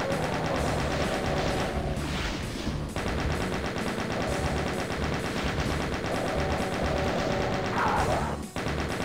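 A chaingunner enemy firing in Doom 2: a dense, continuous rattle of rapid gunfire, loud and unbroken for the whole stretch, with a brief dip near the end.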